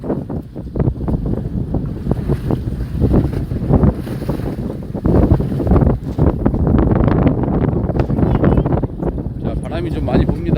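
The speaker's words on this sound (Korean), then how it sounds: "자, 바람이 좀 많이 붑니다." Strong wind buffets a fishing boat at sea off Yeosu during night-style hairtail fishing, with waves slapping and steady rumbling gusts throughout, loud and close, while someone talks over it.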